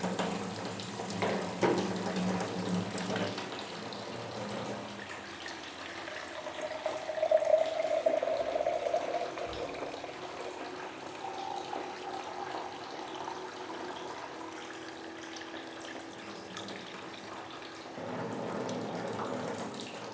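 Dirty, unfiltered water runs from a kitchen faucet in a steady, close stream, a constant splashing hiss that rises slightly midway and carries on evenly for its full length.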